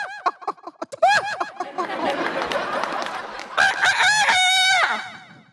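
A performer on a Tamil TV comedy stage show imitates a rooster crowing at 4 a.m. with the voice, giving loud, close cock-a-doodle-doo calls, sharp clucks and a long strained crow.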